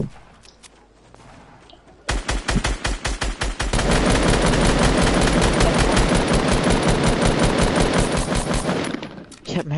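Automatic gunfire in Fortnite Battle Royale starts with a few scattered shots, then turns into a long, loud, rapid stream of fire that lasts several seconds before it suddenly stops.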